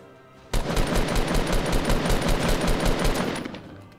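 Rapid automatic gunfire from a weapon in the battle royale video game Fortnite, a loud continuous burst of closely spaced shots lasting about three seconds before trailing off, with no talking.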